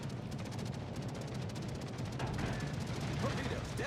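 In the naval video game World of Warships, a ship's anti-aircraft guns fire in a rapid, continuous rattle of repeated bursts, steady and fairly loud over a rumbling battle background.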